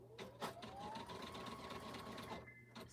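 A sewing machine runs a zigzag stitch along an outer edge with black thread in the bobbin, giving a close, steady mechanical whir and rapid needle chatter for a few seconds before slowing at the end.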